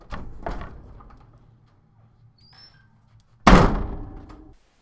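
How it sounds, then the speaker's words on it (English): A heavy dark metal vault door sounds twice early with thumps that trail off, then lands a loud, booming clank near the end followed by a fading rumble. "a vaulted door of dark metal, its circular handle unfurled and rotated,"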